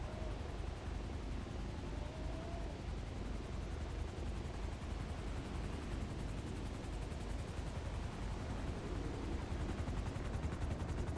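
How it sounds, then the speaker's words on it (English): A helicopter in a video game gives off a dense, steady rotor chop with rapid fluttering pulses under a broad rumbling roar, constant and fairly distant throughout. "What is this helicopter?"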